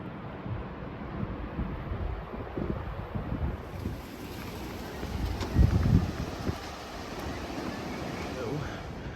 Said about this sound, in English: It's still blowing a gale here